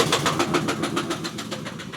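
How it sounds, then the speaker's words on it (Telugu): A truck engine running at a roadside, with a steady, rapid knocking pulse close by and no talk over it. "బండి స్టార్ట్ చేద్దాం."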